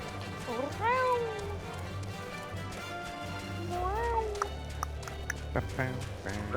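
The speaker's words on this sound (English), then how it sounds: "I heard cat." A cat meows twice in a video game, two rising wavering calls a few seconds apart over a low ambient hum and scattered small taps.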